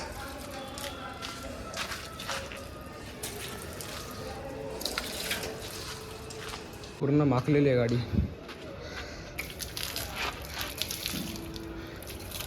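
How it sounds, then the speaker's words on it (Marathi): Someone talks over outdoor background noise and birds, then a burst of water is poured onto a dirty vehicle, splashing loudly for about a second before the talk continues. "गाडीवर जरा पाणी टाकू कारण गाडीची आव हालत जाम बेकार झाली आहे"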